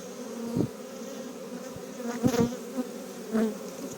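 Honeybees hum in a constant close drone at an open hive during a spring inspection, with occasional louder buzzes as individual bees pass near.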